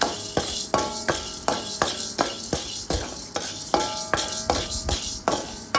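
Urad dal dry-roasted in a pan and stirred with a spoon, giving rhythmic scraping strokes of the grains against the metal roughly twice a second.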